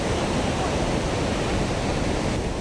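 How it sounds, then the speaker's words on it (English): The Huka Falls waterfall in New Zealand pours in a dense, continuous roar of rushing water under a cloudy sky, loud and unbroken throughout. "it's pretty amazing how much water is coming through"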